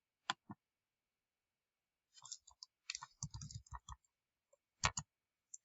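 Brief clusters of light keyboard clicks as someone types a short word on a computer keyboard, with scattered isolated taps before and after, close and quiet in an otherwise silent room.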